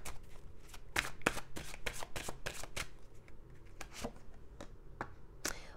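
Tarot cards shuffled by hand during a reading, giving a rapid series of crisp riffling and slapping bursts at close range, with short pauses between bursts and no voices.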